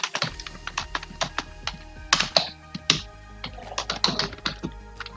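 Someone types HTML code on a computer keyboard, with quick irregular bursts of close, clicky keystrokes and a few louder clacks, over a faint hum.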